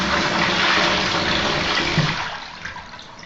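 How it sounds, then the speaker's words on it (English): A Chinese squat toilet on its heavy flush setting, a loud close rushing gush of water that holds strong and then tapers off as the bowl drains, no talk. "I'll do the heavy flush so you can see just how much water this thing uses."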